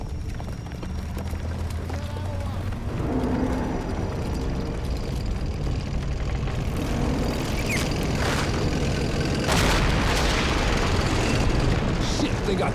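Tanks roll in to attack during a Carentan counterattack in the WWII strategy game Company of Heroes: a loud, continuous rumble of engines and battle noise fills the scene, with voices calling out over it.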